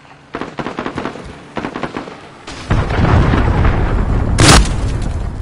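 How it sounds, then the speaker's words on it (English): A missile launches and explodes in the shooter Modern Warfare (2019) during a Domination match. Sharp gunfire pops come first, then a loud sustained roaring blast swells and lingers with a bright crack near the end. "missile away"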